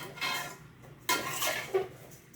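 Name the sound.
stirring food in a cooking pot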